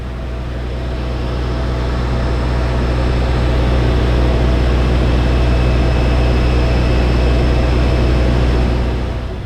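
A Van's RV-4 light aircraft's piston engine drones in flight near Shobdon Airfield, a loud, steady, low-pitched roar heard from inside the cockpit with no pauses.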